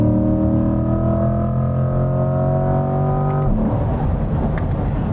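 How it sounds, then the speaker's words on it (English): A 2020 Chevrolet C8 Corvette with its dual-clutch gearbox in manual sport mode holds a loud rising engine note, then a sharp quick shift cuts it off into a rougher, lower rumble. "I'm in full manual mode right now in sport, and it rips off downshifts and upshifts very nicely."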